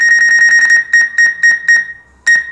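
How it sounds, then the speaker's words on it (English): Mavic 2 Pro drone obstacle sensors sounding a warning while flying under tree limbs: a rapid run of loud, high electronic beeps, then four separated beeps, a short gap and one more, alone and close. "when you fly in this drone, it's got sensors all around it. So it'll start beeping."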